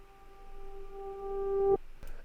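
A reversed, frozen reverb tail for a future bass atmosphere swells as a sustained tonal drone, growing louder before cutting off abruptly, followed by a brief faint click.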